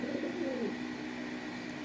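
Domestic pigeons, cream-eyed birds with light red speckling, coo softly and repeatedly in a low tone over a steady background hum, with no talking.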